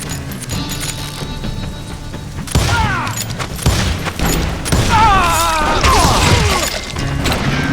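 Gunfire erupts in the Wild West shooter Call of Juarez Gunslinger, with loud booming shots and crashing impacts under a shouting voice and tense game music.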